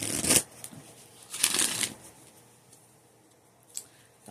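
Two quick riffles of playing cards being shuffled, crisp ruffling bursts close by, followed by a faint tap in a quiet room.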